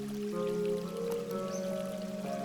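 A crystal clear river flowing beside a twisty path, a steady gentle rush of water with a faint musical tone running underneath, no voices.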